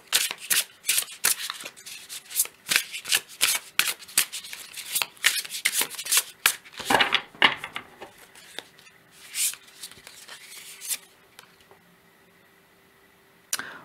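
Oracle cards are shuffled for a reading, producing a quick series of close, crisp riffling and sliding bursts that thin out to sparse rustles and then quiet.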